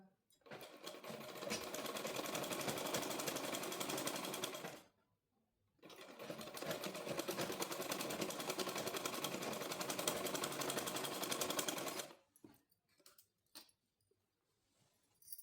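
Sewing machine reinforcing the pocket edge of a straight palazzo pant, two long steady runs of close, loud stitching separated by a brief pause, followed by light handling noises.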